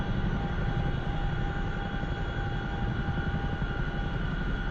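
A Chinook helicopter in the DCS flight simulator game drones steadily with a dense, continuous engine and rotor roar, heard close and alone without talk.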